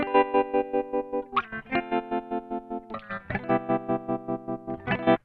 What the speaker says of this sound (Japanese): 途中で途切れ途切れになったような音を作り出すことができます。